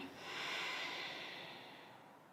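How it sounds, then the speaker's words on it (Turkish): A slow, steady exhalation through the nose during a yoga session, a soft airy breath that swells and then fades gradually, heard close and quiet with no talking over it. "Tekrar nefes al burnundan. Ver."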